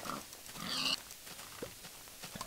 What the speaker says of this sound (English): get the pig.